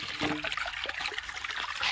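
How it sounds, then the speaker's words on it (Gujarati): Irrigation canal water flows in and trickles steadily, close by and moderately loud, with splashy gurgles over a constant wash of noise. "સીધું કેનાલમાંથી પાણી આવે"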